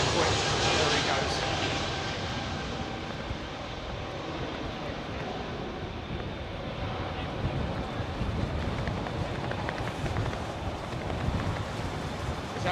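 A TAP Air Portugal Airbus A320neo jet departs Heathrow with a loud, steady broadband engine roar that holds throughout, mixed with gusty wind buffeting on the microphone.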